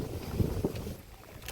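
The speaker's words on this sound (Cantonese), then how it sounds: "哇都好大風" Strong wind gusts buffet the microphone along a reservoir path near the sea at Tai Tam, a broad rushing roar that swells and eases over a short stretch with no voices.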